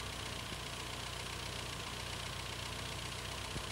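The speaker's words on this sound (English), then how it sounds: "If the engine doesn't run smoothly at idle, adjust the mixture setting by turning the screw" A 1987 Austin Rover turbocharged car engine idles steadily, a constant dense mechanical hum with a faint knocking texture, close and fairly loud, with no speech.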